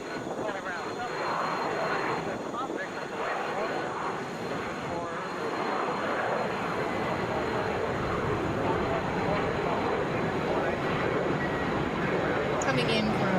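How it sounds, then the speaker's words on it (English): A steady, broad jet roar from an Embraer Phenom 300 business jet at Atlanta International Airport, heard at a distance and growing slightly louder through the clip, with a person talking over it. "That is an Embraer Phenom 300."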